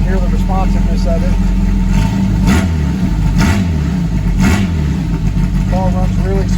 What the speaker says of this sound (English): the car's running great, and you can hear the responsiveness of it